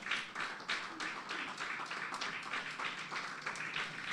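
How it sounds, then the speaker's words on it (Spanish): A church congregation claps during a Sunday morning service, the rapid, uneven clapping spread across the room and fairly faint, continuing steadily throughout. "Dale un aplauso al Señor en esta mañana."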